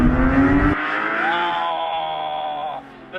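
A 2018 Porsche 911 GT3 with a manual gearbox revs its engine hard, a loud rising wail that climbs toward its 9,000 RPM redline and holds at a high, sustained pitch before dropping away, with no talking over it.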